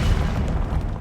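Fiery spell blast from Hogwarts Legacy, a loud, dense low-end boom that roars continuously for about a second with a crackling, rumbling body and no voices.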